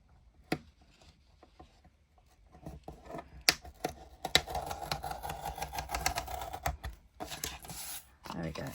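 A scalpel slices through paper ephemera at the one-inch mark on a craft folder, giving scratchy, clicking cuts and light handling knocks that grow busier and denser partway through, close and fairly quiet.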